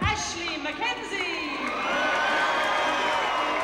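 A loud arena crowd at an Olympic boxing bout cheers for boxer Ashley McKenzie of Great Britain, a dense roar of shouts and whoops that swells and holds steady throughout.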